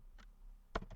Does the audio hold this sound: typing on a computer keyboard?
yes